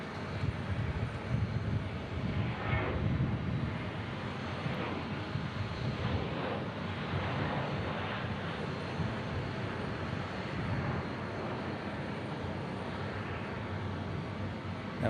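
A Boeing 737-800 taking off from runway 18 at Omaha Eppley Field on a fall day: a steady, broad jet engine roar heard from a distance that holds for fifteen seconds, with some wind buffeting at the microphone.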